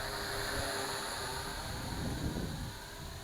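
Syma X8C toy quadcopter drone making a slow flyby outdoors, a steady high buzzing whine of small rotors with broadband wind-like noise, shifting slightly as it passes.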